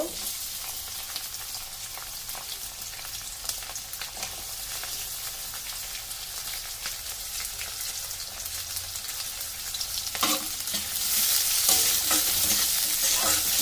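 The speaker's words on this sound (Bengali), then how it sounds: "এবার ওর মধ্যে আমি পেঁয়াজ কুচুনো দিয়ে দেব" Chopped onion cubes hit hot oil over reddened ginger and garlic for restaurant-style fried rice, a loud continuous sizzle with scraping stirs, swelling louder and brighter near the end, no talk.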